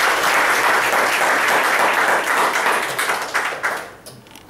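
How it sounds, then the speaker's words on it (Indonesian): Audience at a business Power Day gathering claps for the team leaders, a dense, loud wash of many hands that thins and fades toward the end. "Tepuk tangan buat para leader ya"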